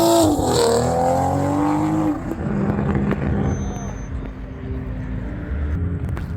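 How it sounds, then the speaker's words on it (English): A Ferrari drives past at a Las Vegas car meet, its engine loud and close at first, with pitch sweeping as it accelerates away, then fading into background rumble and crowd noise. "There goes the Ferrari."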